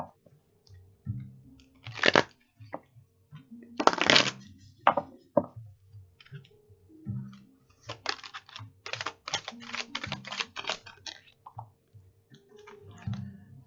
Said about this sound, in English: I'm gonna lay out 4 cards